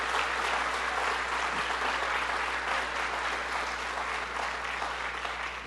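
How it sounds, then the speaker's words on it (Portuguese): A church congregation applauds during a worship service. The clapping is steady, dense and sustained, and it fills the room at an even loudness throughout. "Vamos lá louvar a Jesus, pode aplaudir Ele."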